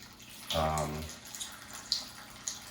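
Water is poured from a measuring cup onto sourdough starter sitting on a kitchen scale, a short gurgling splash up close, followed by quiet with a few small clicks and taps.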